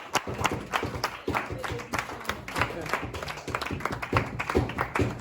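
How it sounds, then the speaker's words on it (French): Dense clapping from a crowd at an orphanage visit keeps going irregularly through the whole stretch, with voices mixed in. "bravo. Applaudissez-le."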